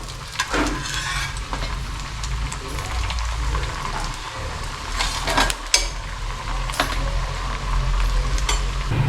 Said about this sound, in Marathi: असे आपण सगळ्याच पुऱ्या तळून घेऊया